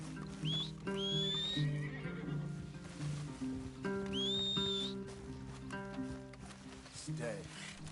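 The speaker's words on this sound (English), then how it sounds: "Leave the horses in the trees there." Horses whinny loudly twice amid steady hoofbeats and movement in an outdoor wooded setting, with a music score and voices underneath.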